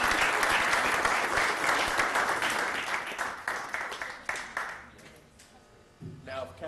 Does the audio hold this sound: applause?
yes